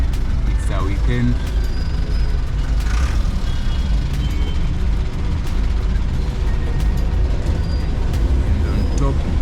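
Weekend road traffic in Nairobi near the Nairobi Expressway: a dense, constant rumble of buses, trucks and cars passing close by, with engine drone, rattles and occasional mechanical clunks throughout.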